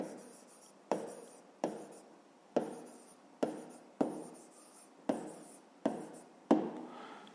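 Handwriting on paper during a fifth-grade maths exercise: a steady series of about nine close pen strokes, each opening with a crisp tap and trailing into a soft scratch, with no one talking.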